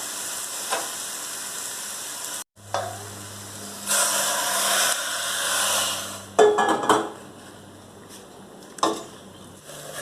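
Pork stir-fries for Thai hung lay curry, sizzling steadily in a pan while a utensil scrapes and clatters against the metal in bursts, with a brief drop to quiet early on.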